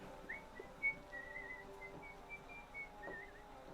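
A person whistles during a tabletop role-playing game session, a few thin tonal phrases drifting in and out over quiet room noise with a couple of soft knocks.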